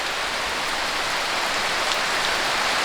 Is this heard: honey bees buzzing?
no